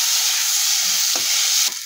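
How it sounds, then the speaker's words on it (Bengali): Fried potatoes are stirred into cooked spice masala in a pan for a village-style banana flower and chickpea mocha ghonto: a steady, loud sizzle with a couple of brief scraping stir strokes near the end. "এর মধ্যে এবার আলু ভাজাটা দিয়ে দিলাম। আলুটা দিয়ে একটু নাড়াচাড়া করে মোচাটা দিয়ে দেব"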